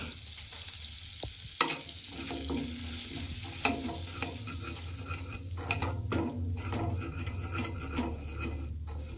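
Wheat flour frying lightly in melted butter, a soft crackling sizzle with repeated scraping and clinking of a utensil stirring in the pan, fairly quiet and close.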